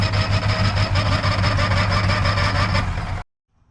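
A revived car engine, still leaking oil, runs at a steady, loud idle with a low droning rumble, then cuts off abruptly into silence.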